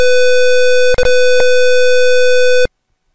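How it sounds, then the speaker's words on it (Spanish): A digital people-counting circuit sounds its alarm: a loud, steady electronic buzzer tone with a sharp harmonic edge. It holds for about two and a half seconds, with a brief dropout near the start, then cuts off abruptly. "El sistema de entrada emite una alarma sonora cuando el número de personas que entra es mayor a"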